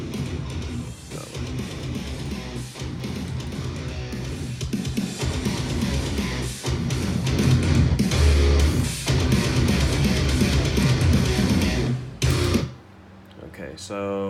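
A full band mix of two electric guitars, bass and drums plays continuously and loudly, dense and steady, then drops out abruptly near the end into a brief quieter tail.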